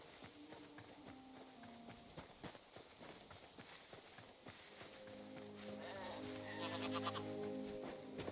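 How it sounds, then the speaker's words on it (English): Sheep bleating in the video game Hytale on a farm, several short wavering bleats rising toward the end over light clip-clop footsteps and faint background chatter. "Sheep."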